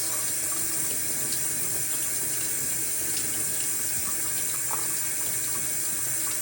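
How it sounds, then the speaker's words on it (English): Tap water runs in a steady, continuous stream while a glass jar is rinsed under it, close and even with faint splashes, and no one speaks. "Carefully rinsing to make sure that it's not splashing."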